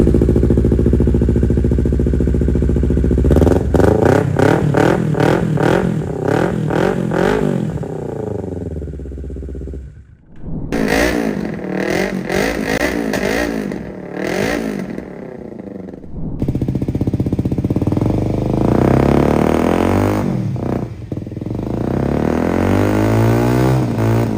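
A Kawasaki Ninja sport motorcycle engine revs hard several times in quick bursts, drops to a rough idle, then revs again loudly and close by, with no talking.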